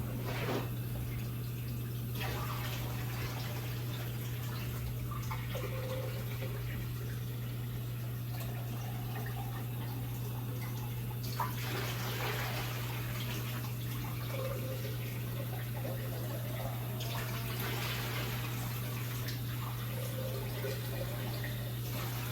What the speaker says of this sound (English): I fill it with water.